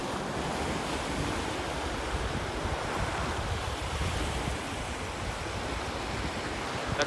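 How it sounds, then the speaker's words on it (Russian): Black Sea surf washes steadily onto a beach in Sochi, a continuous broadband wash of waves with light wind buffeting the microphone, no voices present throughout. "Море немного волнуется. На пляже дует легкий ветерок."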